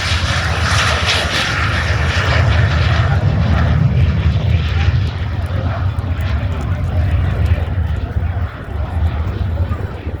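A loud, sustained engine roar from an old post-World War II jet trainer aircraft fills the air, a broad steady rumble with a slight hiss, holding constant throughout.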